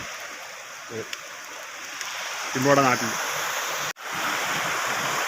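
A flowing river on the Kollam–Thiruvananthapuram district border rushes as a steady broadband wash, fairly close and continuous, with someone speaking briefly over it and a short microphone dropout.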